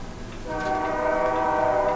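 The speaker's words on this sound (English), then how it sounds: "as the train finally goes away," A passing train rolls by and recedes, its horn-like harmonic tones swelling after half a second and holding steady over a rumbling rail noise, fairly loud and with no talk.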